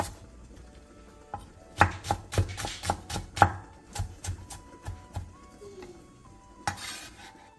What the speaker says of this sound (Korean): 대파 조금을 길게 반으로 갈라 쫑쫑 썰어주세요.